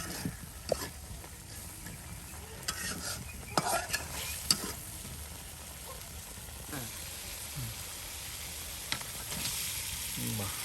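Ground ginger, cumin, garlic and garam masala paste fried together in a village kitchen, with a steady hissing sizzle broken by scraping stirs and a few sharper knocks of the spoon against the pot.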